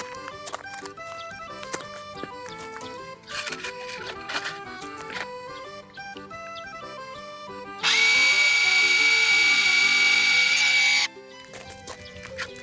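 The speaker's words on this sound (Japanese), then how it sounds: "まずはドリルモードだ。" A Makita HR001G hammer drill is test-run in drill mode, giving one loud, steady high whine for about three seconds after music plays alone, then cutting off as the music continues.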